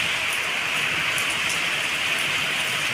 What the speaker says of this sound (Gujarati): બહુ જ અવાજ આવે છે। ચાલો બધા એન્જોય કરવા વરસાદ